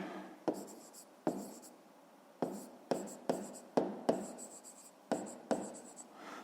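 Pen scratching out a math solution on paper, a string of short taps and scribbled strokes of varied length, close and quiet, with no voices.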